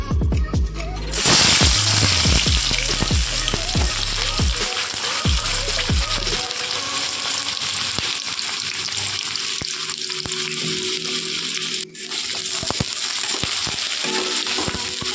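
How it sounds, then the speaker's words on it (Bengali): Onions and green chilies dropped into hot oil, bursting into a loud, close, continuous crackling sizzle that holds steady, with a few clanks of a utensil near the start. "দেখুন তেল গরম হয়ে গেছে এবার আমি এতে পেঁয়াজ ও লঙ্কা দিয়ে দেবো"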